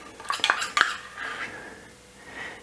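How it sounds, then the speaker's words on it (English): Wholemeal and rye flour being stirred into a sourdough starter: a quick run of spoon-on-bowl clinks and scrapes up front, then softer mixing swishes trailing off, close and alone. "just adding all that flour in and mixing it"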